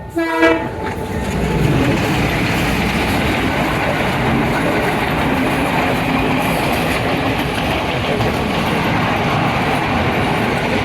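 A train horn sounds briefly at the start, then a loud, steady rumble and rattle of a train running nearby at Mirissa railway station, Sri Lanka, continues throughout.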